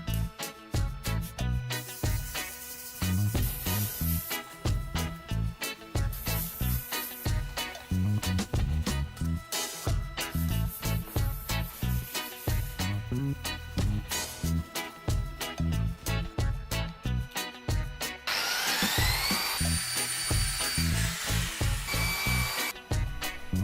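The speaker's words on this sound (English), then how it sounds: "I sanded and polished the epoxy to a mirror shine." A power tool sands and polishes an epoxy and wood ocean-style tabletop with a continuous whirring hum, broken by frequent short pauses. A higher-pitched whine comes in near the end.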